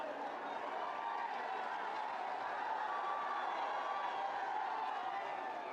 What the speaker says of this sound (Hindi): एक बार जोरदार तालियों से आप सब